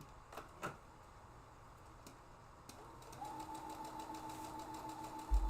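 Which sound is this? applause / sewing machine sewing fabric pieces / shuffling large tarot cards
sewing machine sewing fabric pieces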